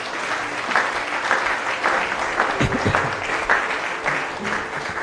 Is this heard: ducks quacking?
no